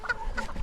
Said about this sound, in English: the chickens are doing awesome back here in the back